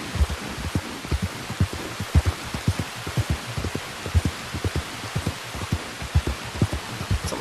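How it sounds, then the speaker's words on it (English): Steady rain falls in Red Dead Redemption 2, a dense, even hiss of downpour with scattered soft low thumps beneath it, continuous and without talk. "it seems anywhere I go as John, it's raining"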